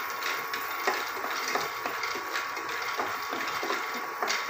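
A handful of peanuts stirred in an oil-free pan, with soft rhythmic scraping and small clicks over a faint constant hiss, nearby and low in level.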